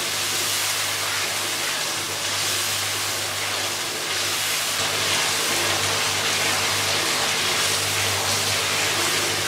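White chickpeas roasting with crushed onion in a pan, giving a steady, loud broadband sizzle that holds without a break, with a faint low hum beneath.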